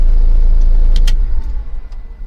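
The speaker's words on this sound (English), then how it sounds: "now we will quickly switch the engine off" A van engine idles with a loud low rumble, then cuts out partway through, leaving a fading, quieter tail.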